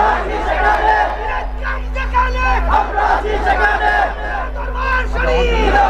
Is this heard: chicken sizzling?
no